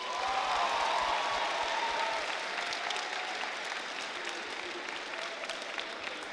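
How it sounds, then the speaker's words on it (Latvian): Audience at a school fashion show at Mārupe State Gymnasium gives sustained, even applause for the jury members, dense clapping that stays steady and eases slightly toward the end. "lūgums skaļus aplausus visiem mūsu žūrijas dalībniekiem"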